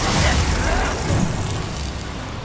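A Bombarda spell bursts in Hogwarts Legacy, a loud booming explosion up close that rumbles and fades over a couple of seconds, with a voice faintly present beneath it.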